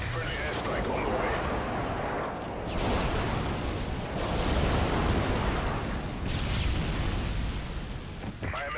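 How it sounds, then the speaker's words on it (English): Airstrike explosions in Modern Warfare 3 multiplayer, a dense continuous rumble of heavy booms and blasts rolling together loudly for several seconds, with game voice lines mixed in. "Friendly airstrike on the way."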